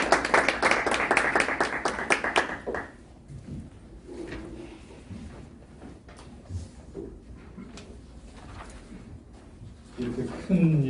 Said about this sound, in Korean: 여러분 박수로 맞아주시기 바랍니다.